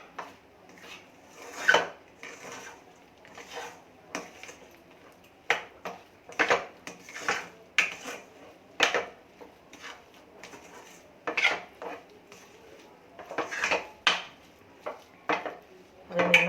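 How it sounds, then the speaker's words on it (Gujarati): A peanut and jaggery mixture stirred in a pan over low heat, heard as rhythmic scraping and clinking of a spoon against metal in quick uneven bursts with short pauses between strokes, close and fairly clear. "ધીમા તાપે એને હલાવી લેવાનો છે"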